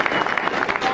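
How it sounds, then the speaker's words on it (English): Brief burst of audience applause at a tech talk event, a dense wash of clapping lasting about a second. "Round of applause."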